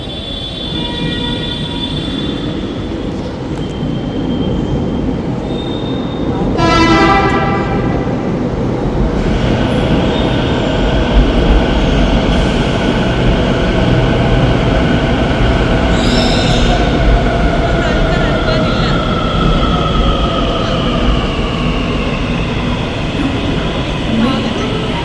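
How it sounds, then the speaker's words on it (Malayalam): A metro train runs close by with a steady rumble, squealing wheels and a rising electric motor whine, a short horn-like tone near the start, continuous and fairly loud. "ഇതിലും നീളമുണ്ട് മെട്രോയ്ക്ക്, ഇവിടെ ഇത് ചെറുതാണ്."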